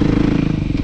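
Motorcycle ridden on a calm, windless day, with an engine putting out a fast steady throb up close and nothing else over it.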